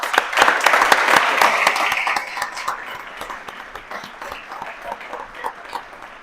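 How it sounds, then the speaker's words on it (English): Audience applause at a pharmacy school white coat ceremony, a dense round of clapping that starts loud and full, then thins and fades to scattered claps over several seconds. "So let's acknowledge our donors with a round of applause."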